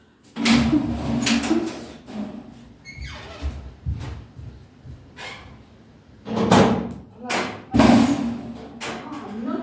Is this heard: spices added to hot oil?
no